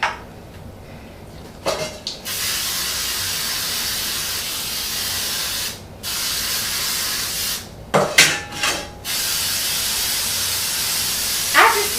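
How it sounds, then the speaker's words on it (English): Baked Joy cooking spray is sprayed onto cake pans for a chocolate cake, heard as several short hissing bursts separated by quiet gaps, close and fairly loud. "we're going to spray our pans with the Baked Joy"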